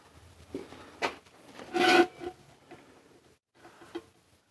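Wax rubbed by hand onto a forged metal paper towel rack, producing scattered scraping rubs with one longer, louder stroke in the middle, close up and alone.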